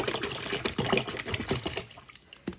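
Bottled water pouring into a plastic freezer ice bag, a close, gurgling splash with irregular bursts that thins out and briefly pauses toward the end.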